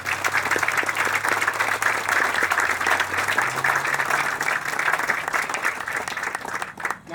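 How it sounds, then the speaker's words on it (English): Sustained crowd applause at an outdoor town park dedication, steady, dense clapping from many hands lasting several seconds before tapering off at the end. "Please give Bill a round of applause"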